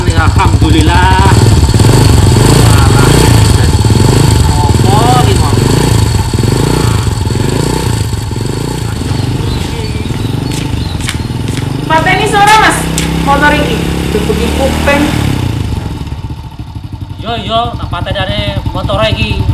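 A motorcycle engine runs loud and close, a steady throbbing rumble with occasional revving, while voices talk over it throughout.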